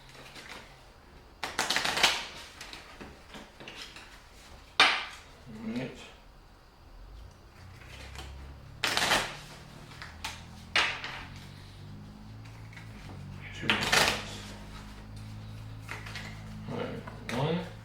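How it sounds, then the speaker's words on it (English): Playing cards shuffled during a Clank Legacy tabletop board game session, coming as several separate riffling bursts of crisp papery clatter between stretches of quieter table noise, with people talking now and then. "so I have to shuffle my cards"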